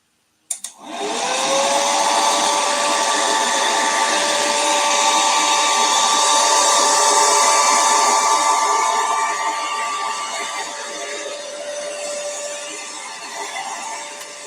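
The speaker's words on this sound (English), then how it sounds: "I got to do one more hair dryer blowing." A hair dryer switches on and blows with a loud, steady whirring hiss, its motor whine rising briefly at start, then running continuously close by.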